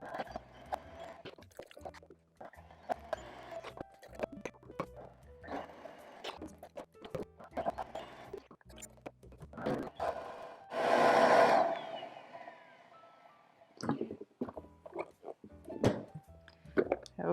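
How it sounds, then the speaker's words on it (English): A blender whirs through vegan hummingbird cake frosting in one loud, steady burst lasting about two seconds. Choppy clatter comes before and after it. "we're just gonna blend this until it's really smooth and creamy"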